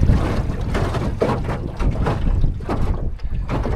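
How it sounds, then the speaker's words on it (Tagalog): Strong wind buffets the microphone in heavy, rumbling gusts aboard a small 12-foot boat, loud and close, with water sloshing faintly underneath. "Lakas pa naman ng hangin."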